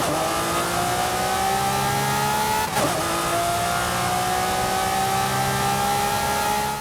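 A Lamborghini Murcielago engine in the Forza Horizon racing game drones steadily at high revs, its rising tone interrupted by a brief shift-like break midway, loud and continuous with no talking.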